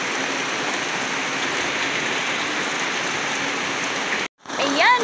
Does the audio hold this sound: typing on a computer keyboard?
no